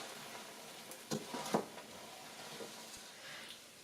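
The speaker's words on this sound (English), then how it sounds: "Now you mix with it inside the marshmallows" A spoon stirs sticky melted marshmallows in a pan on the stove, producing faint soft scraping and squishing strokes over a low sizzle, with a few brief louder scrapes.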